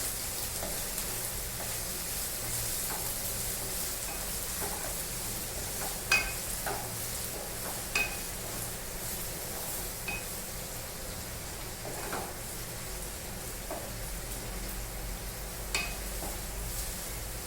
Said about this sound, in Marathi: कांदा, कांदा पण थोडा फ्राय करून घ्यायचा.